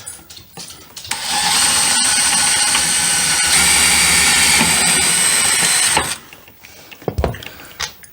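A power driver runs screws through a metal baseboard register, a loud steady whir lasting about five seconds, with quieter clicks and handling noise before and after.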